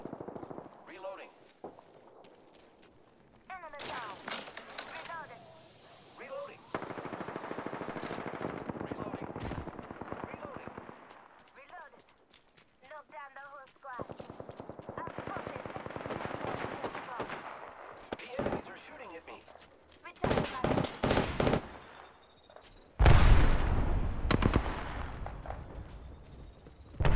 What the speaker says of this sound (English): Firing. I am taking fire, friends.